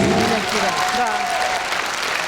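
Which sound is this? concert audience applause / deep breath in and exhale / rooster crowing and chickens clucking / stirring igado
concert audience applause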